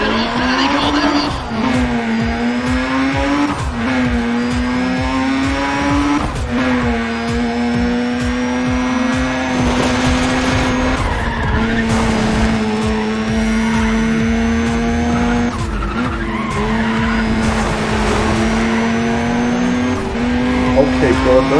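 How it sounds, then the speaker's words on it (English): Race car engines roar continuously with sustained high revving and repeated tire squeals as cars launch and race in the Need for Speed ProStreet video game, loud and close throughout. "Got the engines up and running, and they're off."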